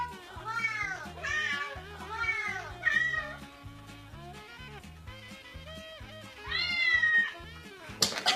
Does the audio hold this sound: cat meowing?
yes